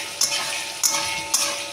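Onion, tomato, ginger and garlic fry together in a pan with a steady, close sizzle, broken by a few sharp scrapes or stirs.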